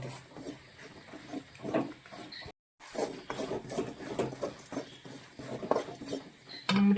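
Coconut with spices and black pepper being dry-roasted in a pan for green chilli curry, with a spoon scraping and clinking against the metal in a steady, close stirring rhythm.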